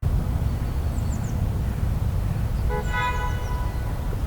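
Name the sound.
car horn honking amid background noise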